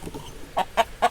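Backyard rooster giving three short, loud clucking calls in quick succession, close to the listener after a brief soft murmur.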